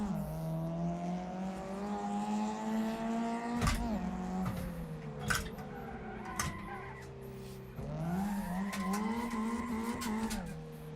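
BMW M3 engine held near redline in first gear while drifting, a sustained high buzzing engine tone that dips and climbs again with tire squeal, steady and fairly loud.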